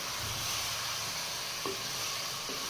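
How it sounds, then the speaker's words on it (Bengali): Country chicken meat sautéing in a pan, a loud steady broadband sizzle filling the whole moment up close, with a couple of faint stirring touches and no talk. "বেশ অনেকটা সময় ধরে মাংসটা এইভাবে কষিয়ে নিয়েছে"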